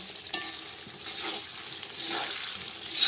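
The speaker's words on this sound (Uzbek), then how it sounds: "Mana kartoshka biz ham qovurilyapti." Potatoes fry in a pan with oil, giving a steady close sizzle with soft stirring and scraping and a brief louder flare near the end.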